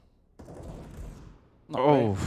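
Desert Eagle pistol fire during a Counter-Strike esports match comes as a harsh, noisy burst of about a second, followed by a caster talking excitedly.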